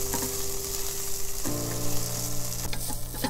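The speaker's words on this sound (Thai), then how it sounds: "ผัดให้หอมก่อนนะครับ ขั้นตอนตรงนี้นะฮะไฟอย่าแรงมากนะฮะเดี๋ยวพริกแกงแดงไหม้ก่อนนะครับ" Red curry paste for a roasted duck curry stir-fries in a pan, a loud, steady sizzle and crackle close up with scraping stirs near the end and no talk.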